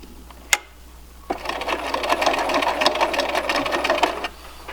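Sewing machine stitching a 1/8 inch seam on a cloth face mask with an air filter, running steadily and close up for about three seconds after a single sharp click.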